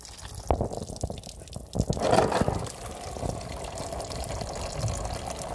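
Coolant spraying out of a Peugeot 106 1.1 engine into a basin, opening with a few sharp clanks before a splashing gush of liquid swells and settles into a steady watery rush.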